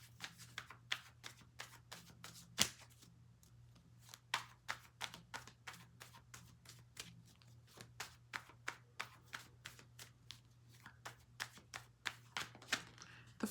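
Tarot cards being shuffled in a steady series of crisp riffling snaps and flutters, close and fairly quiet over a low steady hum, with no talking.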